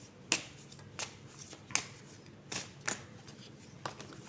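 Oracle cards are shuffled and drawn by hand, giving a series of crisp, close riffling snaps at an uneven rhythm, around six distinct bursts with quiet room tone between them.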